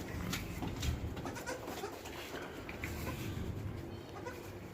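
A goat bleats a few times at a livestock market in Shah Faisal Colony, Karachi, the calls moderately close over a noisy, bustling background.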